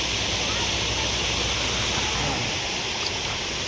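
Creek water rushing past the old mill at Berry College, a steady broadband wash like a small waterfall, close and continuous with no breaks.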